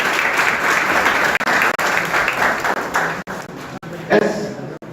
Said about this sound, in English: please give a big round of applause for yourself also